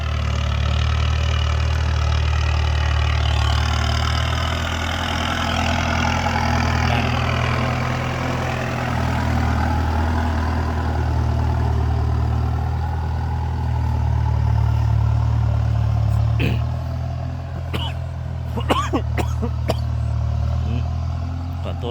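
A farm tractor engine runs steadily at close range with a low, throbbing drone, and a few sharp knocks and clicks appear near the end.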